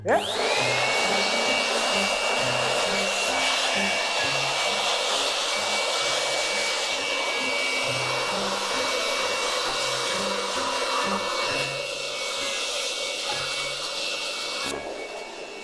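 A handheld air blower roars continuously while blasting dust out of a desktop PC, a loud, close, steady whine with a high tonal edge lasting the whole stretch without talk.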